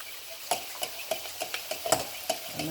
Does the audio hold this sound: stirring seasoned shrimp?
yes